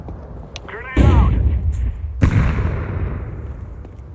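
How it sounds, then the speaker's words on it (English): A grenade going off in Counter-Strike 2, a sharp booming blast followed by a second burst and a fading rumble, with a voice talking over part of it. "Grenade out."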